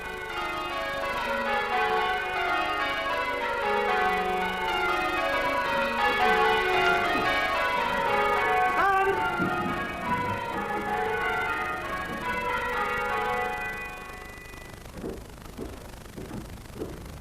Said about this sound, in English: There was a bell ringing practice going on